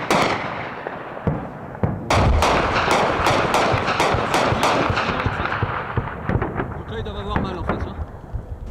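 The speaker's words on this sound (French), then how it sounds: "C'est du gros obus, hein. C'est pour ça que ça fait du bruit." Rapid bursts from a 20 mm cannon pound in Afghanistan, loud sharp reports firing in a fast irregular string of about a dozen, the shell impacts booming and echoing across open ground while someone talks over them.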